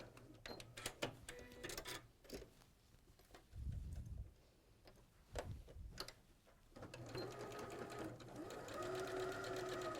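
A sewing machine stitches over a seam in rapid mechanical bursts of needle clatter, pausing and restarting, close and fairly loud with brief talk in between.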